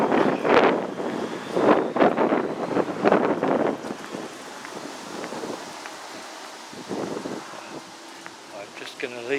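Gusts of wind buffet the microphone with low rumbling bursts in Caernarfon, a walled castle town, strongest early on, then a steadier rushing noise.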